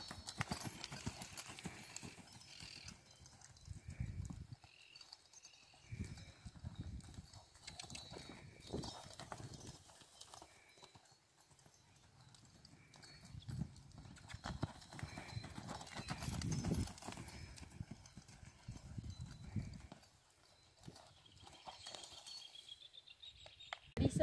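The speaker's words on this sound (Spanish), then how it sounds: "que es caminarlo, relajarlo y que el caballo termine descansado del entrenamiento" A Criollo horse at an equestrian expo is walked to cool down after training, its hooves clip-clopping in a steady, near rhythm on hard ground for a long stretch, with faint voices now and then.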